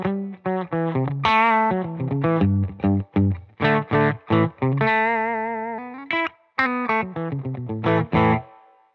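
A Fender American Original Tele Custom through a Benson Amps Monarch Reverb amp plays a choppy melodic phrase of short, punchy notes with reverb tails, some held chords ringing out between staccato bursts.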